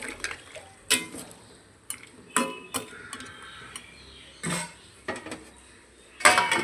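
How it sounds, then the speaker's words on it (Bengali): Crabs are dropped into a cooking pot of tamarind sour curry and a lid is set on top, giving a series of sharp metallic clanks and scrapes with soft wet splashes between them, close and fairly loud, with no talking. "কাঁকড়াগুলো দিয়ে আর একটু ভালো ঢাকা দিয়ে রেখে দেবো কিছুক্ষণ।"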